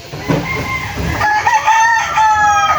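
An 8-month-old gamefowl stag rooster crows loudly and close by. Its long, strained call rises and wavers over light background noise.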